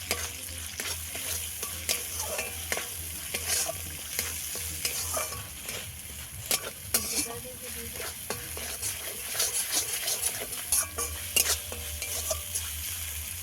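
Spice paste with cashews and poppy seed paste being stir-fried in a pan for a freshwater prawn dish, a constant sizzle marked by frequent sharp scrapes and taps of a spatula, without speech.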